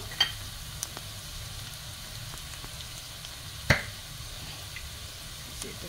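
Tomato basil sauce sizzling and crackling softly in a pan as it goes in, a steady low fry with a couple of sharper pops and clinks, no talking.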